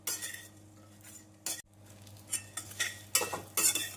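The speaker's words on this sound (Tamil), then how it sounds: "சேப்பங்கிழங்கு சேர்த்து ஒரு முறை நன்றாக மிக்ஸ் செய்து கருவேப்பிலை தூவி இறக்கி விடலாம்." Taro root fry with masala being stirred in a pan: quiet scraping and clinking of a spoon against metal in short uneven strokes, with a low steady hum beneath.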